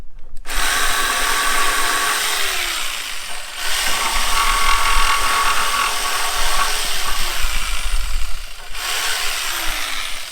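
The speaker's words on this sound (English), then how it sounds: "Finish it off with the jigsaw." A jigsaw cuts through wood for a cabana build, three loud, close buzzing runs with short pauses between them as the blade starts and stops.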